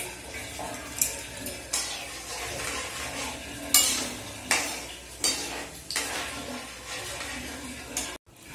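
Nuts fry in oil in a pan while a metal spoon stirs and scrapes against it, giving a steady sizzle broken by repeated clinks and scrapes, close up with no voices.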